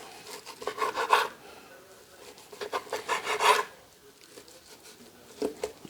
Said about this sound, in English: Cut the rib tip off of the top of the rib because I didn't trim these